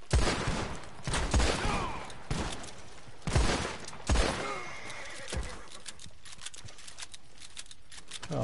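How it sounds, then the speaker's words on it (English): Shotgun blasts from a Red Dead Redemption 2 bootlegger mission, several loud booming shots spaced roughly a second apart, with horses neighing and hooves clattering nearby between them. "Shotgun."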